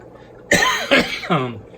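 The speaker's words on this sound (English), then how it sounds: "got that cough again" A single close, rough cough with a throaty catch, breaking into two or three short bursts before fading.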